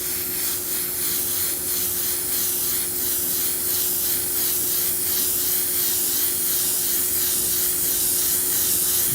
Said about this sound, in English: So still just fogging in that first neutral gray, trying to get it nice and even.